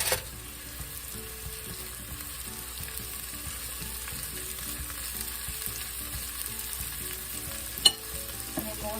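Onions sizzle and fry steadily in a pot preheated on the stove, a continuous close crackling hiss with one brief clink near the end and no voices.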